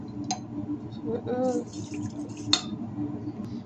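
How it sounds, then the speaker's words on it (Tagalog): Water is poured into a pan of pasta sauce with cheese during cooking, giving a short splash and trickle with a few faint drips and utensil clinks under background kitchen noise. "Ayan, nilagyan ko ng tubig."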